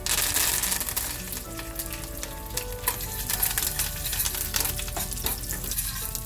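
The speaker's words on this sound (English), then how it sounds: "We're going to add the curry leaves. Now be careful, this splutters if it's fresh curry leaves." Fresh curry leaves spluttering in hot oil with cumin seeds and chickpeas, crackling and popping sharply in a pan amid steady sizzling, with some clinks of a utensil.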